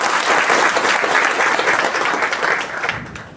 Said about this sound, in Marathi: एकदा टाळी वाजवून आपण